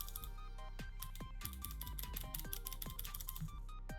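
Keys on a computer keyboard are struck fast and steadily for Vim commands, a close, dense run of sharp clicks over a steady low hum.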